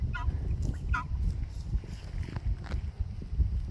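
Farmyard turkeys, including a blue slate turkey hen, and roosters under a shade tree give short gobbling, honking fowl calls, a few distinct bursts near the start over a rumbling, breezy outdoor background.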